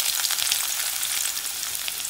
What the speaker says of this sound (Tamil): கருவேப்பிலை, இது எல்லாமே நல்லா டீப் ஃப்ரை ஆகட்டும்.